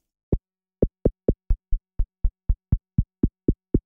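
A synthesized kick drum built in the Vital plugin, with a fast envelope sweeping its pitch, struck in a run of thirteen short, punchy hits at an even, quick pace with silence between each.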